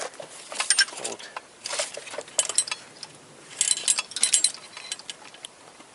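Engine and gearbox bolts on a Toyota Corolla are fastened during a clutch replacement, giving scattered light metallic clinks, ratchet ticks and taps, close and fairly faint, with no talk over them.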